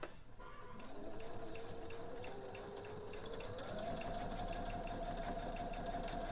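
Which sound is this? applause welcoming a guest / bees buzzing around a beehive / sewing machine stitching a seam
sewing machine stitching a seam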